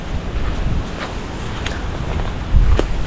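Strong super typhoon wind roars outdoors around papaya trees, a steady, loud rush with microphone buffeting, a heavier gust near the end and a few short knocks.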